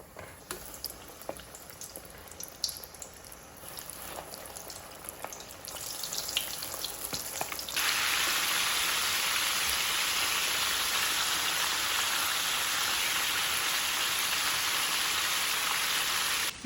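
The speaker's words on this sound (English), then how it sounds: "Now the second half is frying." Chicken frying in hot oil, a steady loud sizzle that swells and stays dense after a quieter, crackling start.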